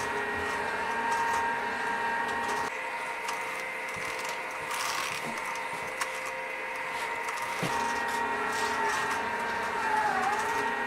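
SCP PRO 60 Series drum carder running on its drive motor, a steady mechanical hum and whir with faint rhythmic ticking and scraping, close and continuous without speech.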